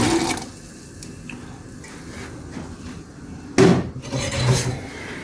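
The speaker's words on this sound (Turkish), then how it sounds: "Sıra bezelye de şu konservenin içindeki suyu süzdürüyorum." Liquid drains from a can of peas in a home kitchen, a soft continuous pouring and trickling with a brief louder splash and clatter partway through, close and without speech.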